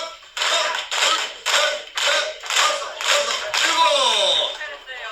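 An audience claps in a counted sequence of seven firm, evenly spaced bursts of hand claps at a Korean traditional music volunteer performance, each burst loud and distinct with short silences between.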